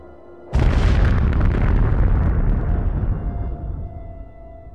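A documentary Big Bang explosion effect bursts in suddenly with a massive booming blast, then rolls on as a dense, roaring rumble that slowly fades over several seconds.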